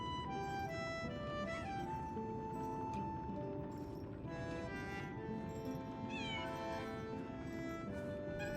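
A cat in the game Lies of P meows several times, clear drawn-out cries over a bed of game music.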